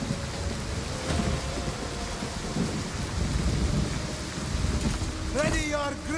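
Dense rain hisses steadily with deep rumbling underneath in the video game Total War: Pharaoh Dynasties, while a voice speaks briefly near the end over the downpour.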